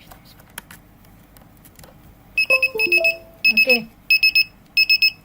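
Battery-powered BatBot robot toy giving off bursts of bright electronic beeps and short chirps, starting partway in and repeating in quick groups of three to four, fairly loud and close, with a brief spoken word near the start.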